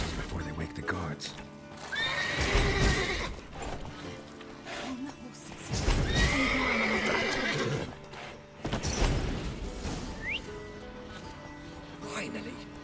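Horses whinny loudly in bursts in The Witcher 3 video game, over a busy mix of background sounds, with faint clopping hooves and voices murmuring underneath.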